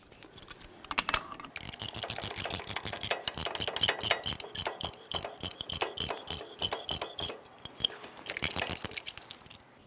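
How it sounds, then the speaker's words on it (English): A caliper compression tool is squeezing both pistons back into a front brake caliper on a 2003-2011 Mercury Grand Marquis, giving a close, steady run of sharp ratcheting clicks with no talk. "you can use your caliper compression tool to squeeze them both in at the same time"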